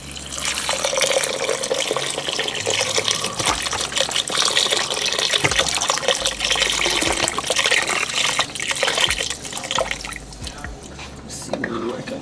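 Chicken broth poured from a carton into a soup pot for smoky poblano chicken and black bean soup, a steady liquid splash and trickle running continuously and fairly loud throughout.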